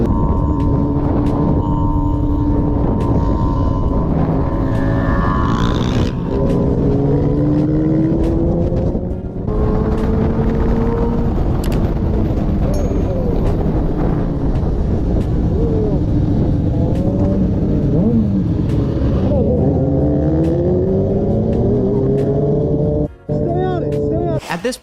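A stolen car's engine revs hard and loud for the whole stretch, pitch climbing and falling as it pulls wheelies and speeds off, with a voice talking over the roar.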